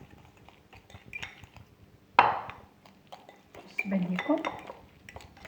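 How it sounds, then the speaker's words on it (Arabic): A spoon stirs vinaigrette dressing in a dish, giving scattered light metallic clinks and scrapes with one sharp knock and a louder clattering stretch, while a person speaks briefly. "غادي نحرك هاد لاصوص فينيغريت"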